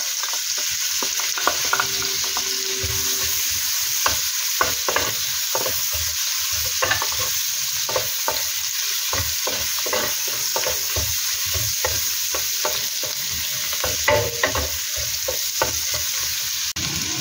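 Onions sauté loudly in melted margarine for salted egg shrimp, a dense, constant sizzle broken by frequent quick clicks and scrapes of a stirring spatula up close, with no voices.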